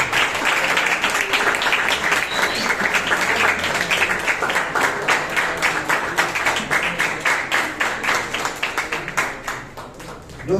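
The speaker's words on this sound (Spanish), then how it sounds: "Aplausos para los debatientes." An audience applauds school debaters at a fourth-year secondary school debate, with steady, dense clapping from many hands in a room that gradually thins and fades toward the end.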